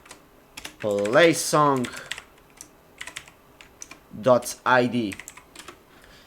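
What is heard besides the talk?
typing code on a computer keyboard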